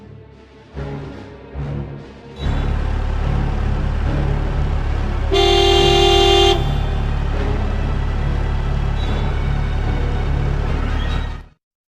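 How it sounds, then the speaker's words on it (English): A car horn honks once over a steady engine rumble in a cutscene from the PS1 game Harry Potter and the Chamber of Secrets, set among other vehicle noise, with no clear screech of brakes. "The car screeched to a halt and Harry dived inside."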